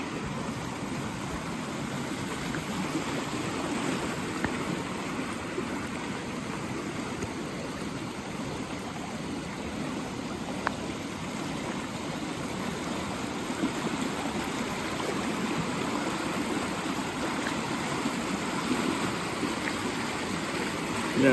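A swollen creek in Knott County, Kentucky, rushes after heavy rain with a constant, broad roar of flowing water close by, unbroken for the whole stretch.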